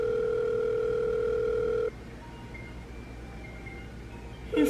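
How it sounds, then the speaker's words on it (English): A single steady telephone ringback tone on an outgoing phone call sounds loud and unbroken for about two seconds, then stops and leaves a quiet room with faint background noise. "Answer the damn phone!"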